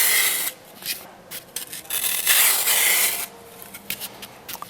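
A block of green floral foam (Oasis) being cut and shaved by hand, giving soft, dry rasping and scraping strokes in irregular bursts, close and fairly loud, with no one talking.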